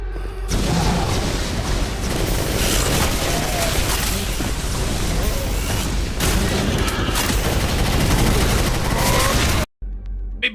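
Continuous rapid chaingunner gunfire and blasts in the Doom mod Project Brutality, a dense, loud, relentless barrage of shots and booms that cuts off abruptly near the end.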